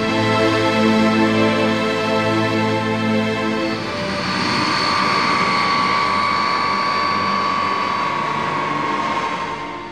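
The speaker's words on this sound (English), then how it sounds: "the transport fleet of the Indian Air Force flies around the clock" An Indian Air Force transport aircraft drones loudly and steadily, its engines making a sustained roar that shifts into a higher whine partway through as the plane flies past.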